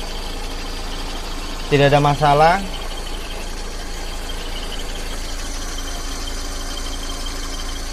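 A Suzuki Karimun small car engine idles with a steady low rumble throughout, while someone speaks briefly in Indonesian near the start.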